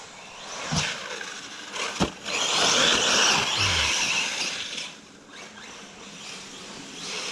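A rally car braking hard on a Baja course, a burst of broadband tire and gravel sliding noise swelling mid-clip over steady engine roar, with a couple of sharp thumps before it and a fade afterward.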